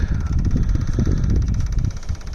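A Perkins 103-10 diesel in a Cushman Truckster runs close and loud, a rough, steady chugging idle with fast rhythmic knocking throughout.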